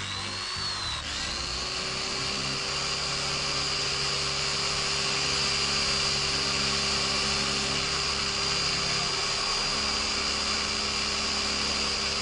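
An electric drill runs continuously at a steady pitch, with a short spin-up at the start, then a constant high whine and motor hum, loud and close, with no voices.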